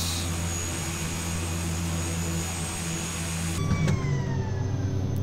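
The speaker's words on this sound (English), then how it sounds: "The flaps and the gears inside the cockpit on this aircraft sound absolutely insane" Carenado S360 flight simulator cockpit ambience with a steady aircraft engine drone, then a mechanical clunk and whirring shift as landing gear and flaps deploy near the end, loud and close with no talk.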